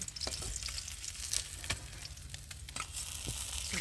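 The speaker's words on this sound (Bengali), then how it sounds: "মাছগুলো ভাজা হয়ে গেছে এবার আমি একে একে তুলে নেবো" Pabda fish frying in oil in a home kitchen give a dense, continuous sizzle close by, with occasional sharper pops and spatters and no talking.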